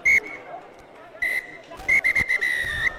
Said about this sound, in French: Et à l'instant même, monsieur l'arbitre Stéphane Vincent qui vient de siffler la...